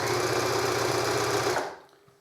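An overlocker sewing machine stitching a seam on fabric for a gun sock hums loudly and steadily up close, then winds down and stops after about a second and a half.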